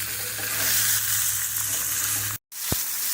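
Shallots frying in the pan after a steak has been seared, a loud, close, continuous sizzle that cuts out briefly near the end, then resumes with a small clink.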